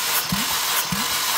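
Mercedes-Benz M271 1.8-litre engine from a W211 E-Class cranking on the starter during a compression test, two slow low thumping compression strokes with whirring starter noise, fairly loud and close, no talk.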